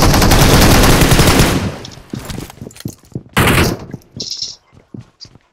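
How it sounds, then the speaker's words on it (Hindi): Gunfire in the mobile shooter BGMI during a competitive duo-versus-squad match: a dense automatic burst up front, then scattered single and short bursts of shots, loud and sharp. "बंदूक से गोला चला रही हूँ मान।"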